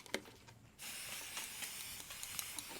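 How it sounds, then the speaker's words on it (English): Aerosol spray paint can being sprayed onto the outside of giant Christmas light decorations, a steady close hiss starting after a brief quiet moment and continuing evenly with small pulses. "You don't want to add too much spray paint to it."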